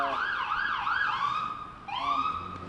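An emergency siren wails in rising and falling sweeps in Pittsburgh, from a unit responding to an active shooter scene, fairly close and loud, with a brief dip before the wail starts again.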